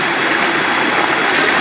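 Water gushes steadily from a sludge machine into collection bags, a loud, dense, continuous rushing sound, close and unbroken.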